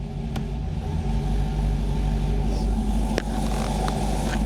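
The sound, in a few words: LTx-swapped Trans Am with 6L80e transmission pulling away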